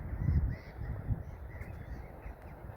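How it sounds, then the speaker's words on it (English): Crows cawing near a local nature reserve beside a small beck and old drainage system, with other birds in the area; several harsh caws sound at moderate distance over steady low outdoor rumble. "All the birds and seagulls in the area, ducks."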